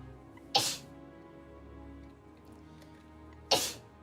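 Two sharp sneezes about three seconds apart stand out over a quiet background hum, each a sudden bright burst that fades quickly.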